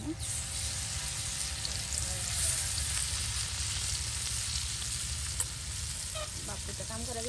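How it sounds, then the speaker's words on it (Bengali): Small fish fry in hot oil for a taro curry, a steady close sizzle with occasional stirring and scraping, with faint voices in the background. "আপনার মাছগুলো ভেজে নেওয়া হচ্ছে সেই কচুর তরকারি রান্না করার জন্য।"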